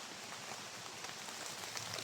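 Rain falls steadily outdoors, a dense even hiss of drops on surfaces with faint scattered patters, close and continuous.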